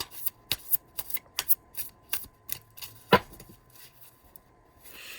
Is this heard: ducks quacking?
no